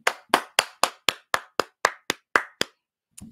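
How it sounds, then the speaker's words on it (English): Eleven sharp, evenly spaced hand claps ring out close and alone, slowing slightly toward the end, followed by a pause and a soft final knock, as an evening gathering is asked to give themselves a hand. "Give yourself a hand clap."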